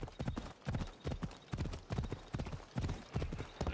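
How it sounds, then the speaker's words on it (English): Steady clip-clop of horse hooves in Assassin's Creed Odyssey on PS4 Pro, a rhythmic trotting gait repeating evenly and close, with no talking. "We got the horse."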